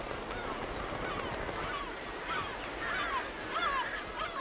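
Gulls on Skomer island calling in repeated short, hoarse cries over a steady windy background, several voices at moderate distance, strongest toward the end.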